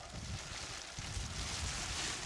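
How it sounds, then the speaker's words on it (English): Gust of wind buffeting a wild camping spot among rocks, a steady broadband rush with low rumbling microphone buffeting that swells after the first second and stays strong throughout. "That was a gust."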